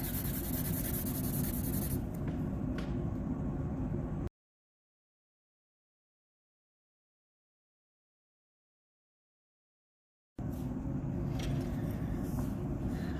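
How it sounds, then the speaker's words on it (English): Graphite pencil shading the back of a paper sketch, a soft continuous scratchy rubbing close by, interrupted by a stretch of complete silence before the scratching resumes. "now I have covered the back of my entire sketch with pencil lead"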